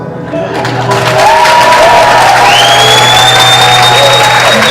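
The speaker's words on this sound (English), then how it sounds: "They only awake to the sound of rapturous applause." A theatre audience applauds and cheers with whoops at a comedy revue, the crowd swelling loud and sustained, with tones and music-like sounds running over it.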